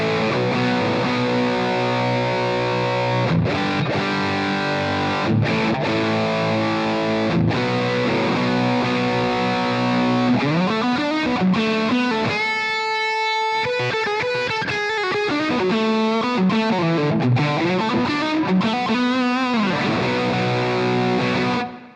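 Boss DS-1W distortion pedal in standard mode, with a humbucker guitar whose tone is rolled back: loud, saturated chords and riffs with sustained ringing notes, a short run of fast tremolo picking midway, and no talking.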